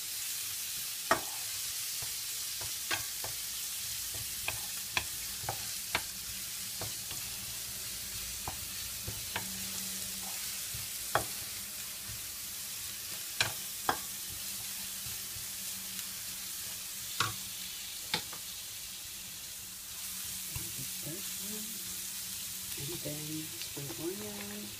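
Garlic frying in a pan for garlic scampi, a steady soft sizzle with occasional sharp clicks and stirring scrapes of a utensil, close and continuous throughout.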